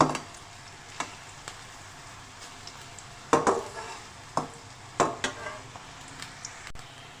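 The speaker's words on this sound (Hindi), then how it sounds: "2 से 3 मिनट में प्याज फ्राई हो जाती है" Onions frying in a pan, a low sizzle under irregular sharp scrapes and taps of a spoon stirring against the pan, close and moderately quiet, no voices.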